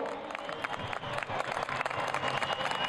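A huge audience of about a hundred thousand people applauds at a large religious celebration in a packed hall, a dense, steady roar of clapping with crowd noise mixed in.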